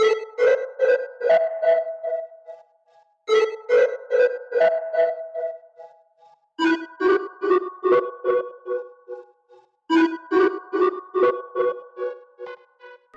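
A pitched-up analog sample chopped in Fruity Slicer into a stuttering effect plays as four repeating phrases, each a quick burst of choppy tonal stabs separated by short silences, loud and clear with no talk.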